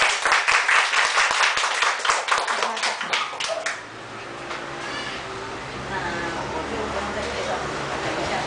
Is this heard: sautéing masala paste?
no